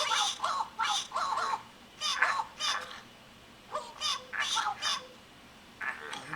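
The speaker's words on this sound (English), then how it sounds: "that's basically what the squawking is like right now, I think." Cartoon birds in the Angry Birds video game squawk in repeated loud bursts, several harsh calls grouped in clusters with short pauses between, close and clear.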